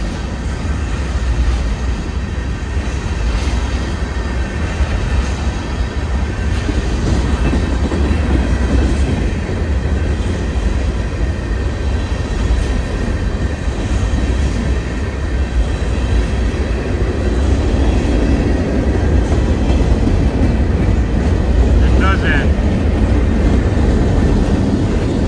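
A long intermodal freight train rolls past close by, a loud, sustained rumble of wheels and cars with rhythmic clickety-clack and rattling, holding steady for the whole stretch without any voices.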